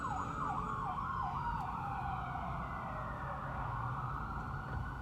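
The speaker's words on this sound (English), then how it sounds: "Now I hear sirens." An ambulance siren wails in rising and falling sweeps, then settles into a steady tone, moderately distant, heard from inside a Tesla Model 3 over a constant traffic rumble.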